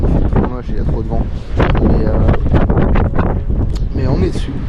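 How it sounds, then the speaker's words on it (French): Strong wind buffets the microphone in Henningsvær, Norway, a loud continuous roar with rumbling gusts under someone talking. "il y a trop de vent"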